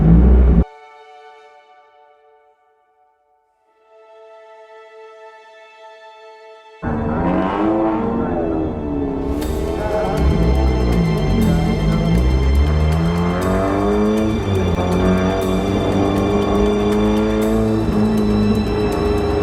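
Spec Miata race cars roar off at a race start, a brief horn-like tone first, then a dense, loud wall of engines revving and climbing through gears, with pitch sweeps as cars pass close by.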